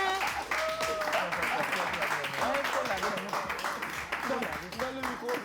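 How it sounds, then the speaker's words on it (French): A studio audience applauds the contestants of a televised game show, dense clapping running throughout under a lively chatter of voices and an announcer. "Applaudissez vos candidats, s'il vous plaît."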